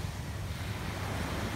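Calm open sea washing steadily against a small fishing boat out trolling for giant trevally, a continuous low wash of water mixed with wind rumbling on the microphone, no voices.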